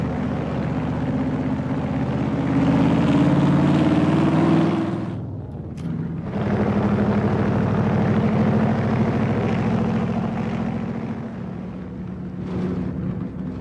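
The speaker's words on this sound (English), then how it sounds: "Got a nice lope to the engine, doesn't it" A car engine with a lopey cam rumbles steadily at close range, its loping idle swelling louder for a few seconds, briefly dropping away, then settling back into a low throaty drone.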